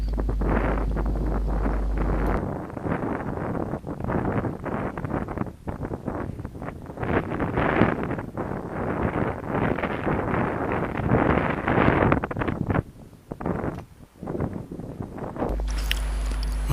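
Gusty wind buffets the microphone outdoors on the water during fly fishing, rough and irregular bursts rising and easing throughout, loud and close, with no talk.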